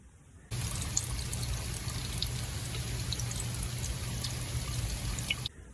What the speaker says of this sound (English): Listen closely, and you'll hear the rapid bubbling again.